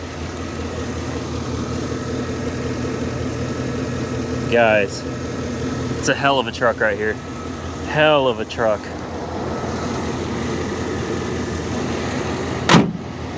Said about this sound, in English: Let's take a listen to that Vortec there.